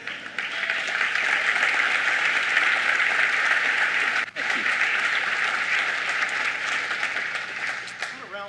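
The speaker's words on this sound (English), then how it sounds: "Applause for James' suit" Audience applause at a chamber of commerce annual meeting: loud, dense clapping that carries on steadily, with one brief dip midway, and voices faintly mixed in.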